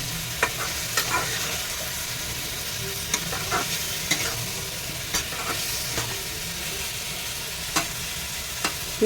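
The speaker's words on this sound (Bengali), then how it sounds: "এগুলা কুমড়ের মধ্যে মিক্সড করে নিই।" Cooked ingredients being stirred and mixed into pumpkin in a pan: a steady soft sizzle under repeated, evenly spaced spoon scrapes and light taps against the pan, close by.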